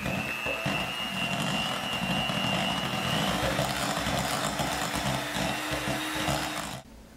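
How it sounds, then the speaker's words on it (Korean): A mixer creams butter with powdered sugar and salt for butter cookie dough, giving a steady, fairly close motor whir with a thin whine and a churning texture that cuts off just before the end. "자, 크림화 시켜줍니다."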